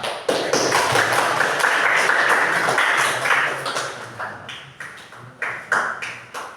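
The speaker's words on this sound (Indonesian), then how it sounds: "kita beri tepuk tangan untuk kelompok berapa?" A classroom of students claps for a group after its presentation, a dense burst of hand clapping that fades after a few seconds into a handful of scattered, isolated claps.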